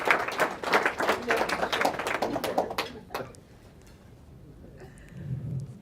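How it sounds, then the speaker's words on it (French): Applause at a charity gala dinner, a dense burst of clapping from the audience for about three seconds that quickly dies away, followed by quiet room murmur and a faint voice. "On l'applaudit très très fort parce que c'est un geste fort."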